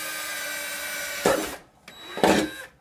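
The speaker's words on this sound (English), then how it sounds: "You're going to place your screwdriver there. Just tap it a little bit, give it a little start. Then just nice and easy." A screwdriver pushed and tapped through a thin metal can for a can-and-string instrument: two short, close, rasping metallic punctures over a steady background hum, no talking.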